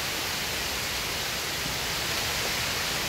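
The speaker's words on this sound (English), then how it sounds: "it's a rainstorm" A rainstorm in a breezy outdoor setting, heard as a steady, dense hiss of falling rain that holds even throughout, with no distinct drops or gusts standing out and no talking.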